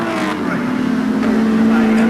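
Touring car engines of the Australian Touring Car Championship at Lakeside drone loudly with a sustained, slightly rising pitch as the cars run on the circuit, under a race commentator's voice.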